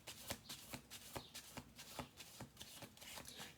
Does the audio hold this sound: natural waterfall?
no